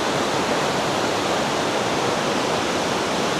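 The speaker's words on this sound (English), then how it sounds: "Yeah, pretty strong current." A river in the Daintree rushes past over rocks with a strong current, a loud, close, unbroken broadband roar of fast water with no voices.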